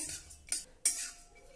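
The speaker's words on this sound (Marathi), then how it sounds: "काजू बदाम खूप भाजून घ्यायची आवश्यकता नाही फक्त थोडंसं गरम करून घ्यायचं आहे" A spoon scrapes twice against a kadai while cashews and almonds are lightly warmed in it, two brief metallic clinks close by with quiet pauses between.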